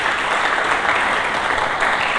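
Applause from a church congregation during a Sunday sermon, a dense steady wash of many hands clapping at close range, holding at an even level for its short span with no voices over it.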